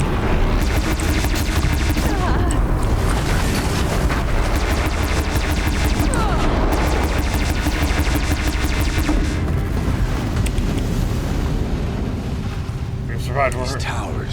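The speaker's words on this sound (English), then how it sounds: "I did not know there was a Ravager cannon here." Ravager cannon firing in Horizon Zero Dawn, a dense, continuous barrage of heavy booming shots and rapid bursts, loud and close throughout, mixed with game sound effects.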